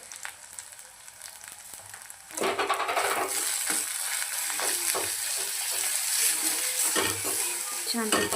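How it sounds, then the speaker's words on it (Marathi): Tomatoes get mashed with red chilli, turmeric, coriander powder and garam masala in a hot pan, a quiet sizzle swelling into loud, continuous frying with repeated scraping strokes of a spoon, no talk. "अशा पद्धतीने टमॅटो थोडंसं मॅश करून घेऊया"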